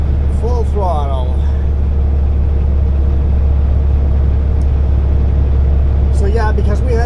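A loaded logging truck hauling a lumber load climbs a steep grade under heavy throttle, its engine a steady, loud, low drone throughout, with a voice speaking briefly near the start and again at the end.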